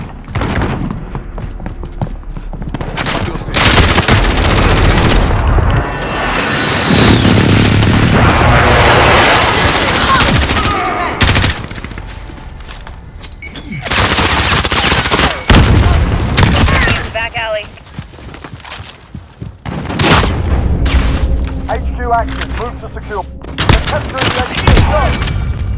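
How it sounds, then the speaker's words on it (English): Precision airstrike explosions and gunfire in Call of Duty: Modern Warfare, with loud repeated booms and dense bursts of gunshots pounding throughout, some blasts near and heavy, and radio-style voices talking between them. "Enemy precision airstrike."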